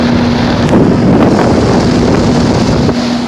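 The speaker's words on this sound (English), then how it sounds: "This is a 3-ton 2006 rheem unit running" A 2006 Rheem 3-ton central air conditioner with a Copeland scroll compressor runs in heat mode outdoors, a loud steady droning hum with a constant low tone, buffeted by wind noise on the microphone, no voices.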